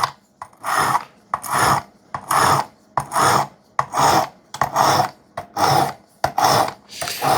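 Work Sharp sharpener grinding a Demko knife blade of 3V steel, a series of about ten close, rasping strokes in an even rhythm, each a short scraping burst separated by brief pauses.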